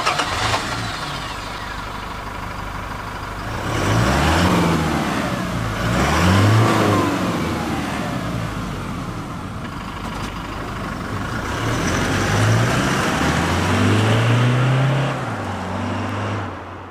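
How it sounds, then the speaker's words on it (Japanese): Toyota Hilux GUN125 pickup with its stock muffler exhaust, driven at mid speed: steady engine drone that rises in several revving surges and falls back, close and fairly loud with no talking. "ノーマルマフラー中速。"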